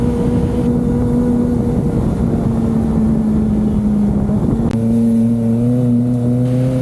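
A 2023 Kawasaki Ninja ZX-25R with a 250cc inline-four engine drones loud and close at a steady idle-like hum, then steps up to a higher, richer pitch partway through and holds there.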